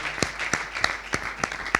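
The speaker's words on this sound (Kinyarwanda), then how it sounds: "Ayo mashyi muyongere, dukomere Imana amashyi" An audience claps in unison at a gathering, about six sharp, evenly spaced claps in a steady rhythm, near and fairly loud.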